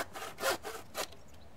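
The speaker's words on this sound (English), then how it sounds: "Cut a lintel to fit between the two posts on top of the door." A handsaw cuts through a wooden door lintel for a polytunnel door frame in a few back-and-forth strokes, each rasping pass rising and falling in a steady rhythm, close and fairly quiet.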